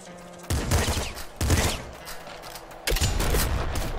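Disc gun firing in the Nuclear Throne video game, three loud broadband bursts with sharp onsets, each trailing into a sustained noisy wash, over a steady game background.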